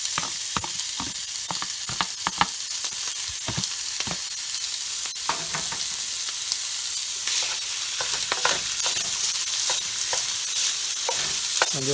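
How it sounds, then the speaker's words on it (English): Eight ounces of ground pork fries loudly in a pan with a constant crackling sizzle, punctuated by repeated taps and scrapes as it is stirred and broken up. "one of the first steps I'm going to do is cook off the ground pork."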